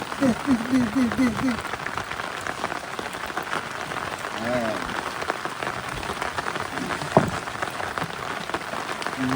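Rain falling on a river in the Sundarbans during a fishing trip by boat, making a steady pattering wash, with people talking and calling out intermittently over it.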